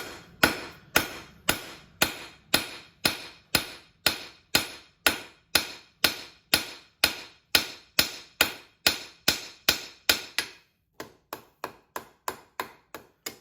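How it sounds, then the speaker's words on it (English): A hammer strikes steel at the edge of an anvil while forging a flux spoon, about two dozen sharp ringing blows in an even, steady rhythm. The hammering is close and clear, with a short pause before a quicker, lighter run of strikes. "we'll come here just kind of at the edge of the anvil, do a one strike blow, a half face blow there"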